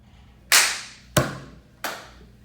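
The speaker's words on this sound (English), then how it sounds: "Give your neighbor a high five if you have a license." Three sharp, close hand slaps of audience members high-fiving one another, spaced roughly two-thirds of a second apart, each snapping loudly and decaying quickly in an otherwise quiet room.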